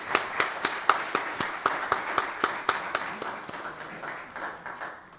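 An audience at a prostate cancer disparities conference applauds the panel with a moderate, steady patter of clapping that slowly thins out and fades toward the end.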